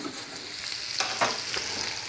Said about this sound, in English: I'm going to let them fry for not very long.